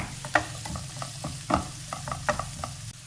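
Small onions (shallots) frying in oil for a spicy thodukari, a soft steady sizzle broken by a few distinct spoon scrapes and stirs at regular intervals, fairly quiet and close.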